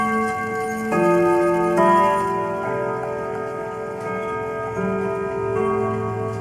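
A German round top clock chimes its third quarter: groups of clear, ringing bell-like notes sound close and moderately loud over a steady tick.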